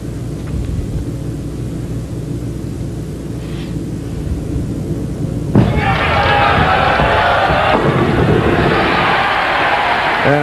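Crowd at a bowling tournament erupts into loud cheering partway through, rising over a rumbling, echoing hall where a commentator is speaking.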